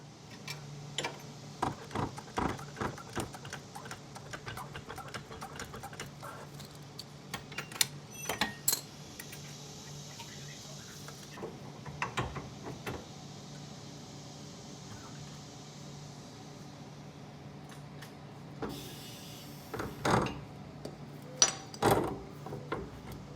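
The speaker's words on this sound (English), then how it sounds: "I have an extension on a ratchet, which is taking off the shock absorber lower mounting bolt" A ratchet on an extension works the lower shock absorber mounting bolt loose on a Mitsubishi 3000GT or Dodge Stealth, making bursts of quick metallic clicks with pauses in between, close and moderately loud over faint background hum.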